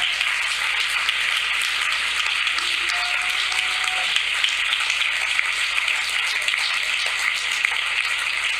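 A church congregation applauds after a sermon, a steady wash of many hands clapping together that fills the space evenly and continuously with no voices over it.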